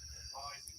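Cicadas give a steady, faint, high-pitched buzzing drone outdoors, continuous throughout with low background rumble.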